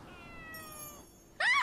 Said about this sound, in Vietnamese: Bé mèo đáng yêu thật.